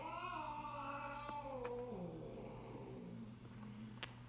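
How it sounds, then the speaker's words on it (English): Two cats growl and caterwaul at each other in long, wavering, rising and falling yowls that fade toward the end, moderately close over a steady low hum. "Cats are growling at each other."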